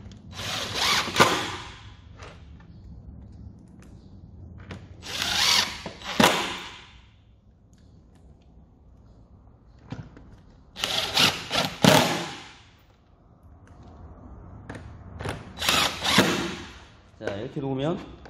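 Power drill driving screws into wood with a Kreg pocket-hole jig, several loud bursts of whirring and grinding spaced out over the clip, each a second or two long, with someone talking in between.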